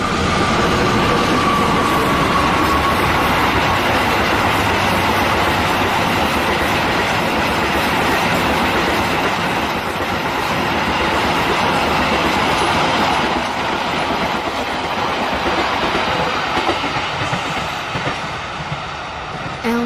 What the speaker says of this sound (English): the sound of the train approaching